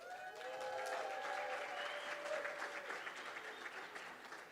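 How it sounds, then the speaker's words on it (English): Audience at a bank launch event applauds, a sustained, fairly faint wash of clapping with whistle-like tones and murmured voices in the crowd. "applause."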